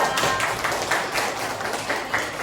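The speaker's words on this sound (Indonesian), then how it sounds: "tepuk tangan untuk kelompok 2." A group in a classroom-style presentation applauds another group, scattered close claps forming a brief, fairly light round of applause.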